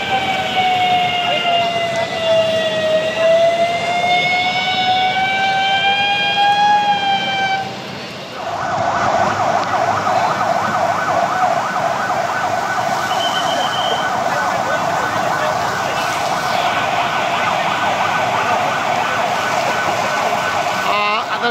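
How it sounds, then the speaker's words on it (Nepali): Fire engine sirens wail at a burning shopping plaza, Center Plaza in Itahari, a steady sweeping tone giving way to a louder, harsher continuous siren with busy street noise underneath. "दुबी, कोशी, मोरङ र सुनसरीका चाहिँ 10-12वटा भन्दा बढी दमकलहरूले चाहिँ आगो निभाउने प्रयास गरिरहेका छन्"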